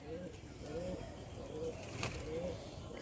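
A white pet pigeon gives soft, low, repeated coos, faint and close, over a quiet hissy room background.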